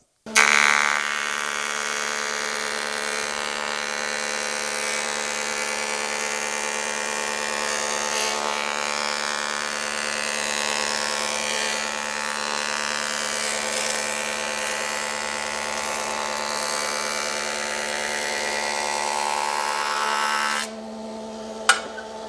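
A woodworking jointer runs at a constant high whine while a board is pushed across the cutterhead with a push guard, a loud steady machine tone that holds for about twenty seconds before winding down with a final clunk.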